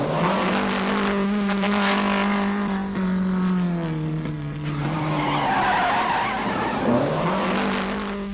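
A 1970s rally car skids and accelerates on a rally stage, tyres squealing while the engine revs rise and fall, loud and close with no talk.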